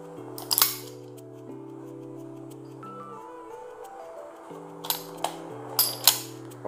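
Sharp metallic clicks and snaps from clearing a CZ 75 SP01 Limited pistol, a few spaced clicks early and a cluster near the end, close and crisp over a steady tonal hum.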